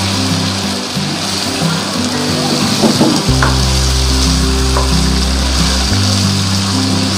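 Frozen chicken pieces fry with red chilli powder, turmeric and cumin for bhuna chicken, a loud, continuous close-up sizzle over a low steady hum, with a few brief scraping touches midway.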